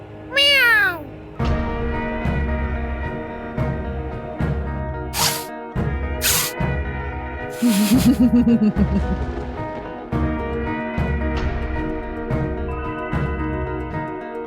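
A cat meows near the start, then a bouncy musical backing continues with a few bright swooshes and another cat-like cry partway through.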